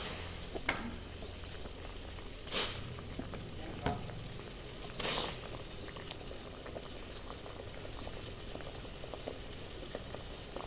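A pot of seasoned water with fish in it bubbles steadily at a rolling boil, quiet and close, with a few louder splashy gurgles now and then.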